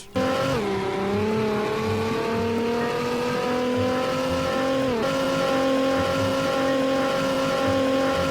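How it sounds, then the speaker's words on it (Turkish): Engine of a car in a Roblox driving game, droning steadily at high revs with a pitch dip as the handbrake drift starts and another shift later, loud and continuous with no talk. "Araba sesini çok beğendim"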